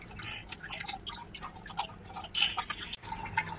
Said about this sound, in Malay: Kita tunggu air naik. Air dia tengah masuk ni.